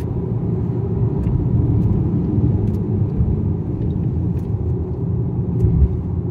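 Steady low engine and road rumble from inside a moving BMW 228i Gran Coupe with a turbo four-cylinder, continuous and fairly loud, with no talking.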